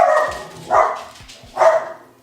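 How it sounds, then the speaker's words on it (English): A dog barks three times in quick succession indoors, the first bark loudest and the later two spaced about a second apart, each a sharp nearby woof with some room echo and no talk over it. "Excuse my dog."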